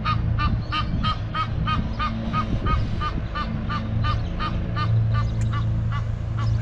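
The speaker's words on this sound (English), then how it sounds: "Oh, that's a pretty looking duck as well." Geese or ducks honk at a zoo in a steady run of repeated nasal calls, loud and close, with low background rumble and no talking.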